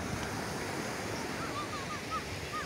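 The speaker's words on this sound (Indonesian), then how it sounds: "ombaknya masih terasa besar ya" Ocean waves at Pantai Alam Indah beach in Tegal roll in as a steady, broad surf wash with wind, some faint high bird-like chirps sounding briefly over it.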